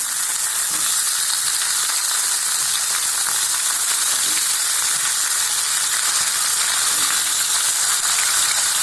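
Thinly sliced potatoes fry in hot oil in a kadai, giving a steady, close, even sizzle with faint crackles throughout and no talking.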